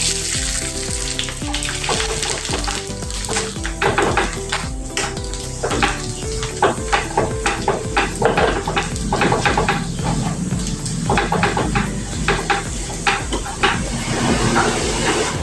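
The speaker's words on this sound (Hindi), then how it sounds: "अपनी कुरडी तलेंगे अभी" Semolina kurdai frying in hot oil, with a steady dense sizzle and crackle that carries throughout and bursts of sharper popping and bubbling, loud and close.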